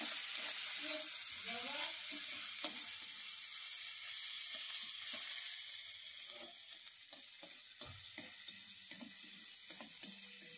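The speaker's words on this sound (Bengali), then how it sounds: "আদাটা ভাজা হয়ে গেছে," Ginger paste fries in a pan for vegetable daliya khichuri, giving a steady close sizzle with a few stirring scrapes and taps; the hiss eases slightly toward the end.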